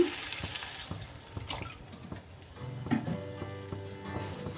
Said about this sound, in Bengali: এরপরে আমি জল দিয়ে দিচ্ছি